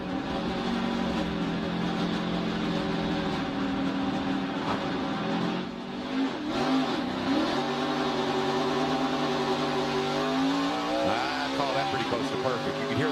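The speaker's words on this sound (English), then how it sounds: "You can hear the wheels trying to spin, but they were just churning." Stock car engines roar as a race starts, one revving through its gears over a steady loud field of cars, with commentary voices talking over it.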